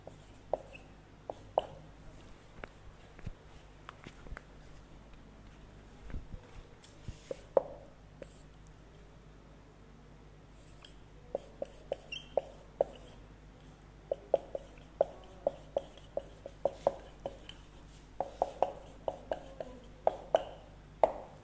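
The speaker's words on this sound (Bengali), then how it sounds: "আমি লিখলাম" Pen scratching on paper comes and goes in short strokes, quiet and close, with sparse bursts early and a denser run of quick ticks and scrapes toward the end.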